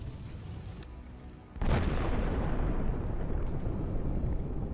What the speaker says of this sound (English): This becomes the cause of such a powerful explosion.